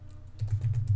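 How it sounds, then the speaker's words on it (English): Terminal commands being typed on a computer keyboard, a rapid run of close, soft key clicks that pick up after a brief quiet start. "I already know what commands I need to type in, so I'm just going to type them in"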